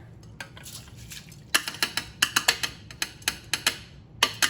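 Rice going into a rice cooker pot, a quick series of sharp metallic clinks and taps, close and fairly loud, in an irregular rhythm with short gaps and no talking.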